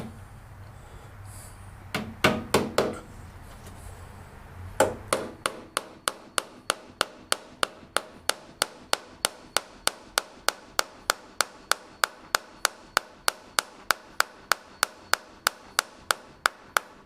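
A small pneumatic power hammer drives little nails into tightly clamped wood during a 1947 MG TC rebuild, firing a long steady run of sharp, evenly spaced close blows after a few earlier scattered knocks.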